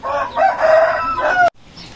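A farmyard rooster crows close by, one loud drawn-out call with a rising and falling shape that breaks off abruptly, followed by quiet background.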